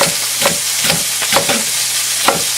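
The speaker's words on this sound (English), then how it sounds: "Cut up our rhubarb here. We'll cut it fairly small." A sharp knife chops rhubarb into small pieces on a cutting board for a rhubarb cherry chutney, giving a handful of crisp, close knocks at uneven intervals with no speech.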